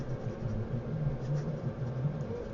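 Pilot Custom 74 fountain pen with a fine nib scratching steadily across paper, a soft continuous writing scratch close up with faint low background hum throughout.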